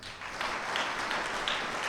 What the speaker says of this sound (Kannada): ಜೋರ ಚಪ್ಪಾಳೆ ತಟ್ರಿ